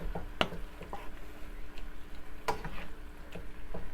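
Meat for jambalaya sizzling softly in a large frying pan with intermittent scraping and tapping of a utensil stirring, close by, no talking.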